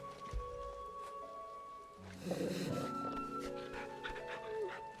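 Torgal, the dog companion in the Final Fantasy XVI video game, pants in quick rhythmic breaths, quiet at first and then louder and busier from the midpoint, over a low game ambience with no talk.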